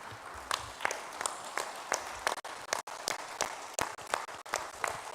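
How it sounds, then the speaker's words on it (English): Assembly crowd at a school sports association general meeting clapping and standing for an ovation, with irregular claps, shuffling and a few sharp loud hand strikes over a steady wash of applause. "Let's clap. Let's even stand up and clap again."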